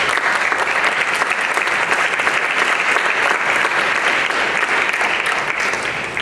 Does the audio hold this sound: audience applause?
yes